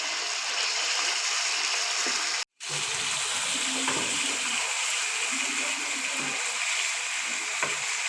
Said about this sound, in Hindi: ऑयल शामिल करने के बाद तकरीबन 6-7 मिनट के लिए अच्छे तरीके से इसकी भुनाई कर लेनी है।